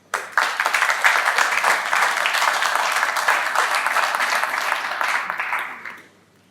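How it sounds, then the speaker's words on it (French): Audience applause at an official meeting between Congo's Ministry of Industrial Development and the Chamber of Commerce: dense, steady clapping that starts abruptly, holds for about six seconds, then fades out. "je demande à l'auditoire de l'applaudir"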